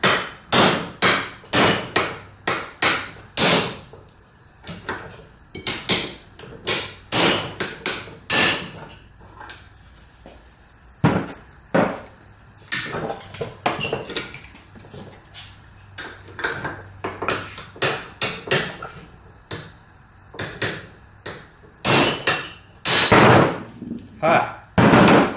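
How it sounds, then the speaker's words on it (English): Sharp metallic hammer blows strike a wrench set on the collar of a W.F. and J. Barnes foot-powered mortiser, ringing out close and loud in irregular bursts of rapid taps and heavier hits for about twenty-five seconds, with brief pauses between rounds. "I'm putting it down here because I don't want to smack this collar with the hammer"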